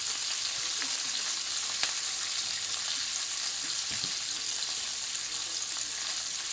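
Bacon sizzling steadily in a pan, a dense, even crackle and hiss that holds at one level throughout with occasional small pops, close by and with no talk over it.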